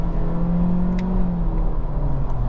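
A 2023 Acura Integra A Spec with a CVT accelerates, its engine giving a steady, even drone that rises gently, heard from inside the cabin with no talking.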